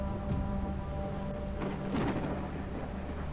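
Thunderstorm in the dinosaur survival game The Isle Evrima, with a steady wash of rain and wind and a rumbling thunder swell building near the end, loud and continuous with no talk over it.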